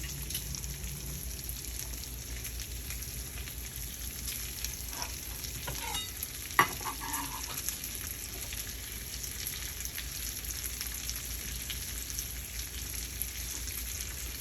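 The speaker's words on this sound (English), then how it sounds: "So now we're going to put the peppers and the onions in and get them cooking." Peppers and onions frying in a pan over a medium burner, a steady soft sizzle that runs throughout, with a brief clink or two partway through and no voices.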